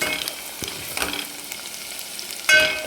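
Chili powder fries in hot oil for a mutton and pumpkin curry, giving a soft, steady sizzle with a few scraping stirs and a brighter, louder burst of sizzling near the end.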